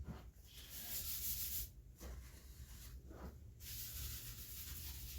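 Wax being rubbed by hand onto a wooden cutting board, covering the edges and both faces, making a close, continuous scratchy rubbing with a couple of short pauses between strokes.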